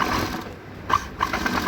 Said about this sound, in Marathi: मी आता वरतून त्याला एक दाब टिप टाकून घेते